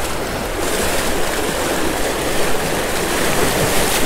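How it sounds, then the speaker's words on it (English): Fast-flowing river water rushes steadily around someone wading in a brown trout stream, a dense, continuous roar close by with no break. "This water is really fast."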